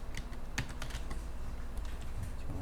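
Computer keyboard typing while a test entry goes into a Java/JSP web form, a steady run of quick clicking keystrokes, close and moderately loud, with no talking.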